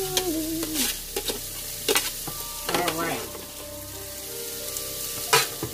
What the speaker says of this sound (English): we just want to give them a nice saute